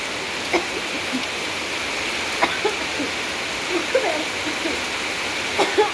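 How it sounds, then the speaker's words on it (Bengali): Steady rain pours in a continuous broadband hiss, with scattered louder drips and taps landing close by throughout. "দেখেছো বৃষ্টি হচ্ছে"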